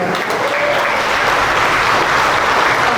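An audience claps loudly and continuously at a celebration-of-life memorial gathering, a dense, even roar of hands that holds steady from start to finish.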